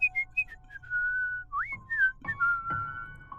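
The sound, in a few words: person whistling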